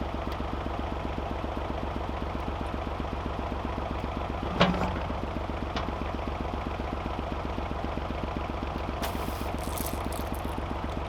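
A farm tractor engine fitted with a digger attachment runs at a steady, fairly quiet idle with an even low pulsing, broken by one sharp clank near the middle and a brief hiss later.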